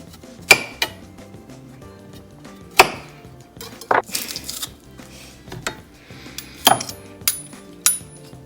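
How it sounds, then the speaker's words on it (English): Fresh garlic cloves pressed in a handheld garlic mincer, a series of sharp metallic clicks and clacks with several crisp transients spread across the span, close and fairly loud with no talking. "we're just going to put these in my trusty garlic mincer here"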